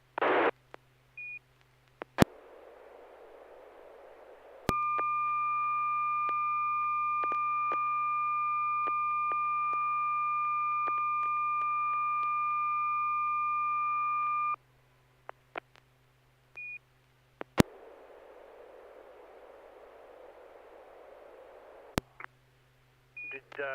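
A steady pure electronic test tone on an amateur radio SSTV net holds for about ten seconds over faint radio hiss, with brief clicks and static bursts before and after.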